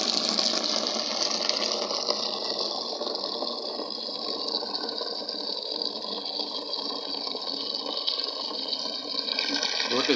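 Tap water gushes steadily into a basin for hand washing clothes, a constant broad hiss lasting throughout at close range, with no talking over it.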